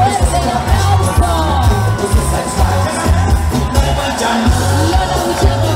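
A crowd at a carnival queen election cheers, whoops and yells loudly over pounding music with a steady beat, the voices dense and close throughout.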